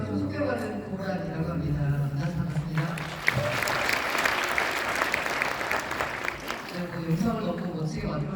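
An audience at a blockchain conference at COEX claps to welcome a speaker on stage, a dense burst of crowd applause in the middle, with voices talking before and after it.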